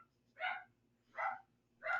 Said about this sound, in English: Dogs, I don't know if you can hear them.